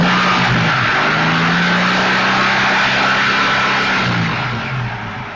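A Mk1 Ford Capri 3000 with a V6 Essex engine gives one sustained rev, the loud engine tone rising and then falling back toward idle, close to the car.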